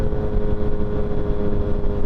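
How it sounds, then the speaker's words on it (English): Engine and road noise from morning traffic while riding a motorcycle, a dense, steady rumble of nearby vehicles without speech. "Traffic this early in the morning, can't make this up."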